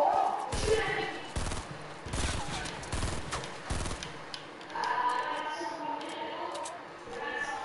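Gunfire in the video game Fortnite, a series of sharp shots in a quick cluster over game sounds and background voice, followed by quieter in-game ambience.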